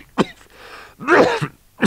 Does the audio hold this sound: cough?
yes